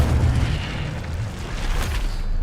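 Casting the Incendio fire spell in a Harry Potter video game unleashes a sustained roaring blast, a heavy booming rumble with crackling flare-ups that stays loud for a couple of seconds.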